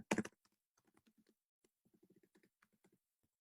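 Quiet keystrokes on a computer keyboard, a sharp burst of clicks followed by a sparse, irregular run of light taps, close and alone.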